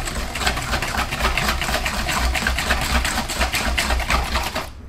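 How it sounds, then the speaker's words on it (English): Flour is whisked into coconut pudding batter made with cream or milk, giving a steady, rapid rhythmic beating and whirring that continues without pause at close range, with no talking. "and whisk it well."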